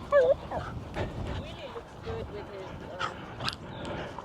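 A puppy named Jim Pup gives a high yip followed by soft whimpers and small barks, close by, with someone talking over it outdoors on a farm with donkeys.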